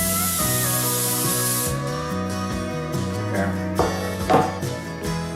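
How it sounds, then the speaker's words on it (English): Cooking spray hisses onto a bread pan for about a second and a half, a close, sharp burst of spray over quiet background music that carries on alone afterward. "Grease my pan."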